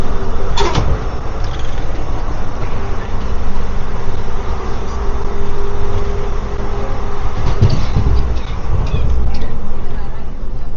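The inside of a moving Delhi–Agra passenger train gives a steady loud rumble with clanks and door knocks, while a voice talks over the noise.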